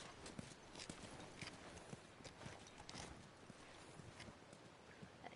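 Horses walking on a farm, hooves clip-clopping in a steady, uneven rhythm fairly close by, with a constant hiss of outdoor background noise.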